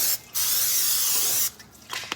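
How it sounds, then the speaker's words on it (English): Two quick hissing bursts of aerosol cooking spray onto a pan, the first long and steady, the second shorter, followed by light clatter. "I'm just gonna spray the bottom of this pan."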